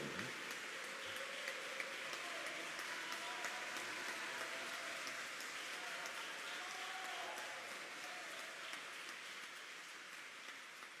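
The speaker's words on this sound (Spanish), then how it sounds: "Aquí hay una verdadera guerra de aplausos." Lecture audience applauding after a talk by Dr. Jorge Becker, a steady, dense wash of clapping that holds evenly throughout and fades slightly at the end, with faint voices underneath.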